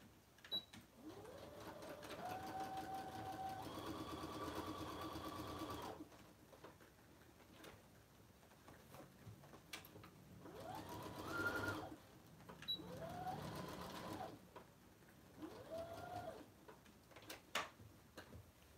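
A sewing machine stitches messenger bag lining in several short bursts, each a rising motor whir with rapid ticking needle strokes, separated by pauses with faint handling noise.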